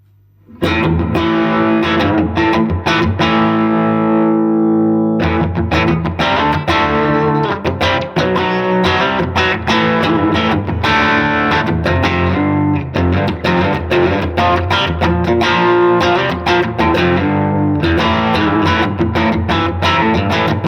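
An electric guitar through an overdrive pedal set to lower drive plays loud, continuous chords and riffs with a crunchy, moderately driven tone.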